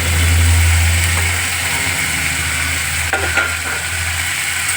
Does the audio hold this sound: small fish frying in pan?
yes